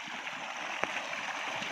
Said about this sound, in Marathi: हे बघा, आपलं इथे पाणी चालू आहे मित्रांनो.